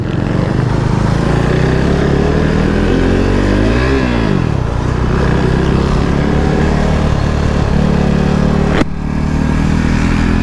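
A KTM RC390 race motorcycle on a track roars loudly and continuously close by, its engine pitch sweeping up and down through gear changes, with a sharp click near the end.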